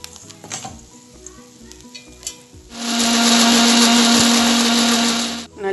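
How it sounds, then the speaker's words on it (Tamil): A mixer grinder whirs loudly and steadily for a few seconds, grinding cooled roasted spices for vatha kuzhambu after some quiet kitchen clatter, then cuts off abruptly. "நல்லா சாஃப்டாக கிரைண்ட் பண்ணி எடுத்தாச்சு."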